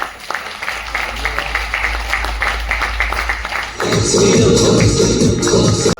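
Indoor audience in a seminar hall breaking into loud applause, a dense burst of clapping that starts abruptly after a quieter stretch of sparse taps and shuffling and stays strong until it cuts off.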